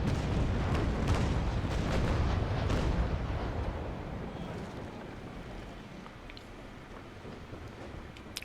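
A broadside of ship cannon fire in the naval combat game Naval Action, Trincomalee versus St. Pavel, opens with a loud, rumbling stretch of overlapping booms, then fades into a lower roar of wind and sea.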